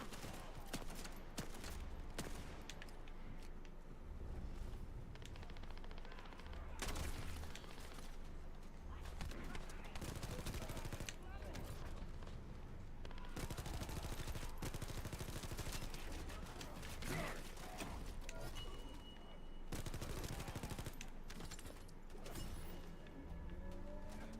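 Gunfire in the sci-fi shooter video game The First Descendant rattles continuously as fast automatic bursts under a dense mix of game music and effects, steady and loud throughout.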